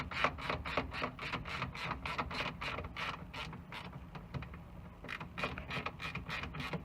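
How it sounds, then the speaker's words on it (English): A ratchet wrench tightens bolts on Valenti tail lights, making a fast, even run of close, crisp ratcheting clicks that continues steadily through the whole stretch. "Now I'm gonna bolt them all down"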